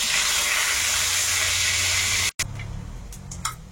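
Whole five-spice mix (panch phoron) hits hot oil in a wok, giving a loud, steady hissing sizzle that cuts off abruptly, followed by quieter scattered crackles.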